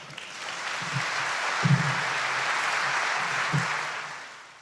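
Crowd applause for Georgia's Lieutenant Governor, a continuous wash of clapping with a few low thumps and faint background murmur mixed in, holding steady before easing off.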